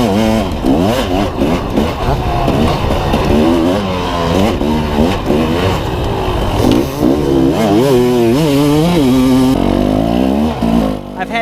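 A dirt bike rips along a trail, its engine loud and close, revving up and down repeatedly in rapid surging bursts with shifting pitch and no pause.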